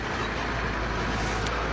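Trucks drive at a quarry in Congo, their engines producing a continuous broadband rumble and road noise with no distinct breaks, steady and moderately distant.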